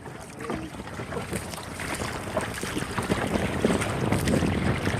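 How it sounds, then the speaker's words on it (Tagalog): Strong wind buffets a small boat out on shallow sea water during crab trapping, a steady roar of gusts and microphone rumble with lapping waves and faint distant voices. "Grabe yung hangin."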